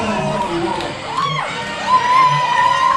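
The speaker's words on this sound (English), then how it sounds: "The crowd enjoying him." A wrestling crowd at a Grapple Wrestling British Championship bout cheers and whoops for a wrestler, loud rising shouts and yells from many voices close by, with a commentator talking over the noise.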